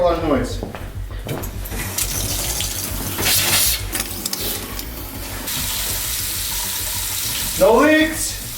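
Water and trapped air rushing and sputtering through newly repaired homestead pipes from a just-opened faucet, a loud hissing spray with bursts of gurgling, while people talk nearby.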